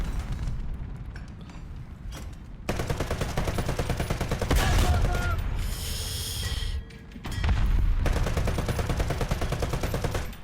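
Rapid machine-gun fire and heavy cannon blasts from tanks in War Thunder rattle loudly in long sustained bursts with short pauses, dense and close against the rumble of battle.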